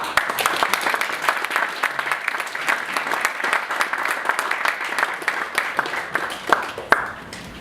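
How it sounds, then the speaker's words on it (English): Sustained applause from a crowd, a dense steady patter of many hands clapping for several seconds, with a few sharper claps near the end. "applause, please, for our performers."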